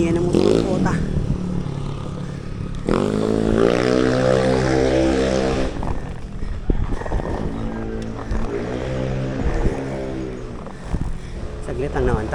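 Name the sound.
motorcycle engine noise while riding uphill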